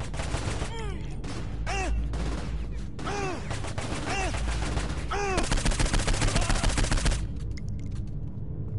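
Loud gunfire in the game Saints Row 4, with rapid bursts and volleys mixed with sweeping, whooshing effects, ending in a quieter tail with no speech.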